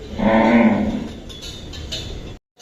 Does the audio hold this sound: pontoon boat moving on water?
no